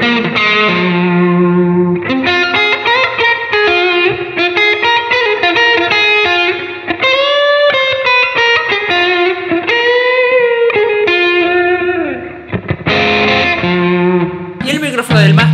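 A budget mahogany Les Paul-style electric guitar with a bluesy overdriven tone plays loud, gritty licks and bends with sustained notes and short chord stabs, continuous for about fifteen seconds.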